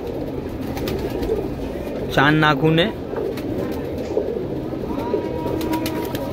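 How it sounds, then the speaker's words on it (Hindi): A black pigeon gives one short cooing call at close range, with someone talking around it in a quiet room. "ये दूसरा कबूतर है भाई, पूरा काला कबूतर है"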